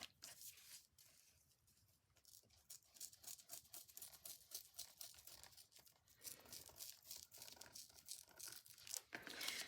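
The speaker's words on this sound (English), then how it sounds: "I'm going to roughly just tear a little bit away here." Paper is roughly torn by hand at close range in a rapid, ragged series of rips and crinkles, with bursts growing louder toward the end.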